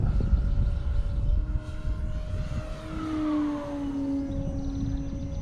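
A radio-controlled Decathlon 40 model airplane, around 7.6 pounds and running on 6S batteries, flies overhead outdoors in gusty wind, its electric motor whining steadily and shifting pitch as it passes, fairly loud over wind noise.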